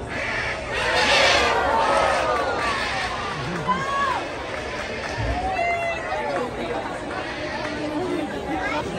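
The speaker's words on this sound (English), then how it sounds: "You see all the people coming in." A crowd of people walks into the San Diego Zoo, with busy overlapping chatter, footsteps and general hubbub at moderate distance, children's voices rising now and then.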